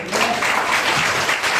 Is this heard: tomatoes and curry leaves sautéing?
no